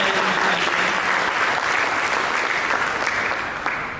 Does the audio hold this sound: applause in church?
yes